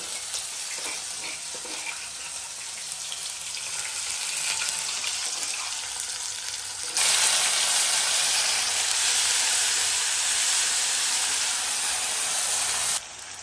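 Spice paste hisses and sizzles as it is stirred into a hot tempering of peanuts, cumin, curry leaves and asafoetida for masala poha, a steady close broadband fry that jumps louder partway through and runs on alone without talk.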